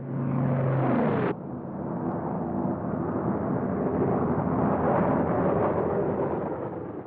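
Bombs dropped by WWII P-47 Thunderbolt fighters explode on a target in Italy. A deep, rolling rumble of blasts builds and sustains for several seconds after an engine drone cuts off abruptly, and the roar stays loud and heavy throughout.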